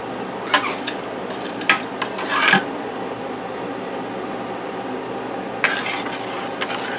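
Pectin being stirred into elderberry and mayhaw jelly in a pot, heard as a few scattered metallic scrapes and clinks of a spoon against the pot, clustered early and again near the end, over a steady low background hum.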